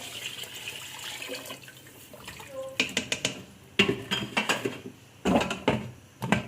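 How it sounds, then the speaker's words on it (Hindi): A jug of water is poured into a cooking pot of nihari, with splashing and liquid sounds mixed with sharp clinks and clatter from the pot and utensils. "तो अब इसमें हम डाल रहे हैं पानी, तकरीबन 1 जग।"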